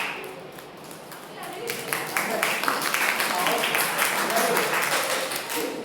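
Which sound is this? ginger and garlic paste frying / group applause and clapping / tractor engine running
group applause and clapping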